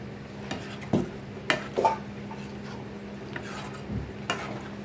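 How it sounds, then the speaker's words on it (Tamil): Fried mushrooms being stirred into a mushroom gravy in a pan, with a soft sizzle underneath and a few distinct scraping clinks of a spoon against the pan at irregular intervals. "இப்போ நம்ம வதக்கி வச்ச மஷ்ரூம் வந்து இதில் சேர்த்துக்கிறோம் சேர்த்து நல்லா கலரி விட்டுருங்க"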